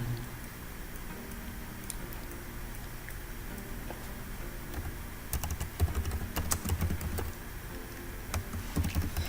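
Computer keyboard typing a search into a browser on a remote desktop, quiet rapid key clicks in a steady patter that becomes busier and louder toward the end, with faint room hum underneath.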